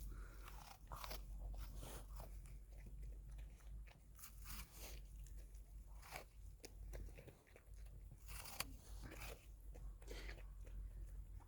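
Dog crunching and chewing an apple up close, with repeated crisp bites and wet chewing in an irregular rhythm and a low background hum.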